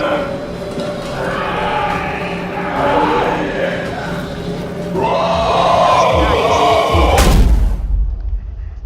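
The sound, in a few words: monster opening a door in video game SOMA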